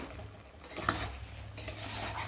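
A pumpkin, taro and shrimp curry being stirred in a pan after a pinch of sugar, with two bursts of scraping and clinking from a spatula over a low simmering hum, close and moderately loud.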